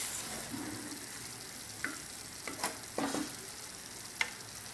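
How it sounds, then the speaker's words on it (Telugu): Stuffed brinjal masala curry fries gently in oil with a quiet, continuous sizzle. A few soft clicks and stirring scrapes rise above it now and then. "ఇది ఇలా బాగా ఉడికేంతవరకు వేయించాలి."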